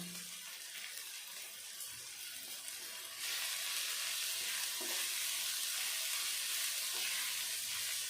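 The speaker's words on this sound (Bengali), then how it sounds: "এবার আমি সব কিছু দিয়ে ভালো করে কষিয়ে নেব মশলাগুলো আমি ভালোভাবে ভেজে নিয়েছি" Ground cumin, coriander and Kashmiri chilli powder frying in a pan for a lote fish jhuri dish, a steady close hiss of sizzling that grows louder partway through.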